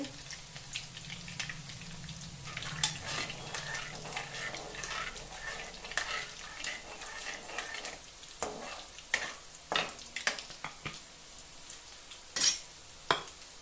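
Potatoes frying in hot butter and oil for dum aloo, a steady close sizzle with repeated scraping and stirring clinks of a utensil against the pan, and no voices.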